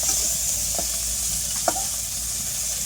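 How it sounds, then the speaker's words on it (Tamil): Food fries in a pan, a steady close sizzling hiss with a couple of soft stirring knocks, no voices. "நல்லா ஃப்ரை பண்ணுறாங்க."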